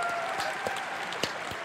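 Crowd applause from a live audience at a World of Warcraft Season of Discovery panel, a steady dense clapping wash with a few sharper claps standing out, moderately loud and continuous throughout.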